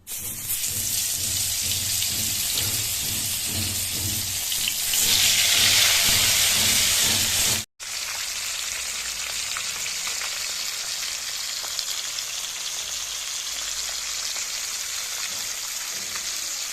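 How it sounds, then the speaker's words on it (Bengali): Fish pieces frying in hot oil in a kadai, a dense steady sizzle that swells louder midway, cuts out briefly, then carries on evenly at close range with no talk. "তেল গরম হয়ে গেছে, এবার একটা একটা করে মাছ ঢেলে দেবো।"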